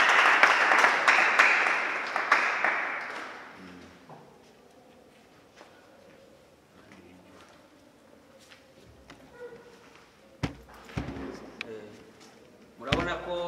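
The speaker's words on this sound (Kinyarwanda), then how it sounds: "Amashyi menshi ku Mana." A crowd at a wedding ceremony breaks into loud, dense applause that fades out after about four seconds, followed by quieter room sounds and speech with a few sharp knocks.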